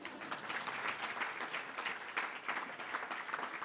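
Brief applause from an audience, moderately quiet and somewhat distant, following the introduction of a U.S. Attorney for the Northern District of Ohio, with steady overlapping claps and no talk.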